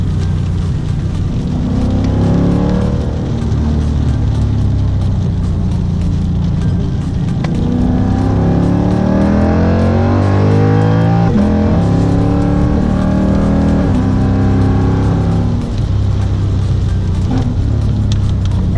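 A car driving fast along winding mountain roads through Tennessee and North Carolina in a heavy downpour, its engine rumbling and rising and falling steadily over the hiss of rain for the whole stretch, close and fairly loud.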